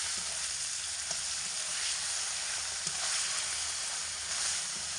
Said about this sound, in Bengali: লবণ আর হলুদ দিয়ে মাছের মাথাগুলো খুব ভালো করে ভেজে নিতে হবে